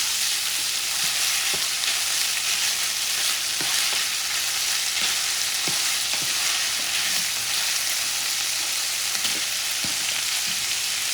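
Longaniza sausage meat sizzling steadily in a pan for Mexican-style tacos, a constant loud frying hiss with occasional soft stirring clicks and no talking.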